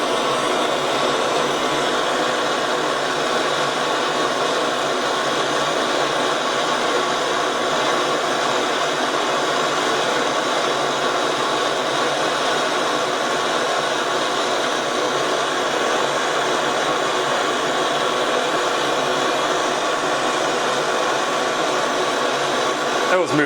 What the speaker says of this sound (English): You can see this torch is not really good for melt ups.